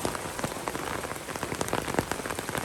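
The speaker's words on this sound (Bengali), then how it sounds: "এখন কিন্তু বেশ বৃষ্টি হচ্ছে, মুষলধারে বৃষ্টি হচ্ছে।" A heavy monsoon downpour drums on surfaces nearby in a garden, a thick continuous patter of many drops with no voices.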